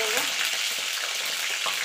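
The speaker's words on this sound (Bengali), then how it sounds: "দেখুন বন্ধুরা কড়াই গরম হয়ে গেছে, তেল দিয়ে দিয়েছি, এবার ডিমগুলো ছেড়ে দেবো।" Eggs fry in hot oil in a wok with a loud, continuous sizzle and crackle, punctuated by small spatters throughout.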